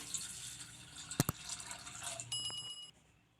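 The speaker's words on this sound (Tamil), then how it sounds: "இது முழுகிற அளவுக்கு தண்ணி ஊற்றிக்கலாம்." Water splashes and pours into a cooking pot of black chickpeas, with a couple of sharp metallic clinks midway and a ringing tone before the pouring stops.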